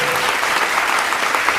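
Audience applause at a Hindi comedy poetry show (hasya kavi sammelan), a steady dense clapping from a crowd filling the whole moment with no voices over it.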